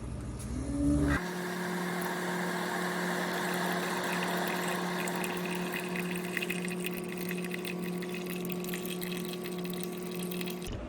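A Keurig coffee maker brews its largest cup with a steady pump hum and whir, and water gurgles and trickles into the cup over the continuous drone.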